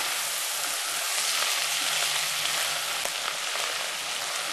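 Butter beans are stirred in butter or oil in a pan, giving a soft, even frying hiss that runs throughout at low volume with little variation.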